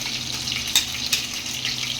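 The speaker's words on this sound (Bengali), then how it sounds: "এবার এটাকে ভালো করে আমি ভেজে নেবো মশলাটা" Spice paste of cashew, tomato and onion frying in a pan gives a continuous bright sizzle, with a few louder spits and pops scattered through a brief stretch.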